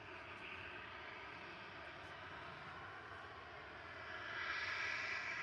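An airliner departs Liverpool Airport, its engines a steady, distant broadband roar that swells slightly louder toward the end.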